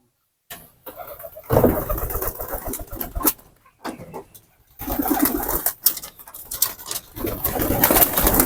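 Pigeons coo in low, throaty bursts close by at a pigeon coop, one bird outside trying to get in, mixed with rustling and scattered background noise, with pauses between calls.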